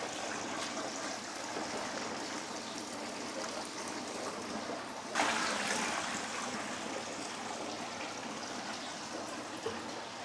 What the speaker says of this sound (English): we'll slowly acclimate them with taking water from the pond, dumping it into here